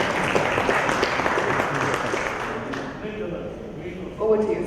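An audience claps for a speaker being introduced at a Cotton India 2015-16 conference. A broad wash of applause fills the room, then thins and fades out within a few seconds.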